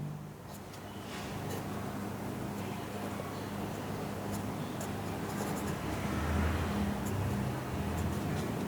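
Chalk or marker strokes on a board while a math problem is worked out by hand: soft continuous scratching with occasional light taps, steady and close over a constant background rumble.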